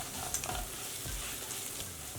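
Masala for beetroot pulao frying and being stirred in a pan on low flame, a loud continuous sizzle with scraping stirring strokes throughout, no voices.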